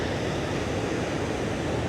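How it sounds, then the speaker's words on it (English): Ocean surf with big rollers coming in, heard as a constant broadband wash of breaking waves, steady and fairly loud, with no voices. "the water's not too churned up, except for the surf. Beautiful big rollers coming in."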